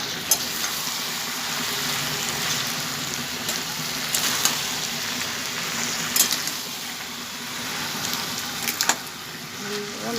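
Oil sizzles and spits steadily in a pan as previously fried fish heads go back in, a continuous frying hiss with a few sharp pops and clinks of stirring, no talk.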